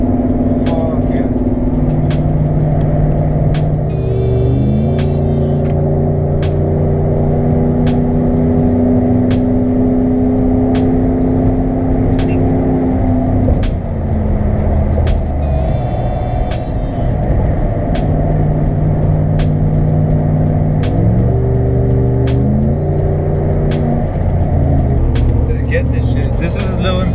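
A RAM pickup truck with a loud exhaust drives in traffic, its engine droning steadily and rising and falling in pitch through several gear changes, loud and close, under occasional talk.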